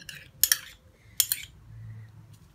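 A metal spoon clinks sharply against a bowl twice as plain yogurt is scooped out for a homemade face mask, two bright taps close by in an otherwise quiet room.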